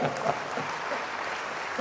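A church congregation claps during a homily, a soft, diffuse wash of applause that sounds somewhat distant and holds evenly through the brief moment.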